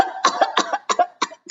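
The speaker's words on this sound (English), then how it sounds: "Old Salt coughed again." A read-aloud narrator voicing an old pirate dog's fit of coughing: five or six harsh, raspy coughs in quick succession, close and loud with no other talk.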